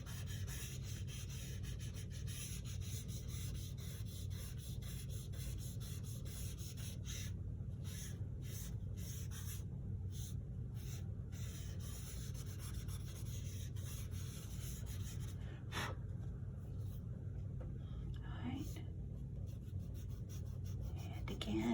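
Toilet paper rubbed over charcoal shading on a drawing, a continuous soft scratchy swishing close by with brief pauses between strokes.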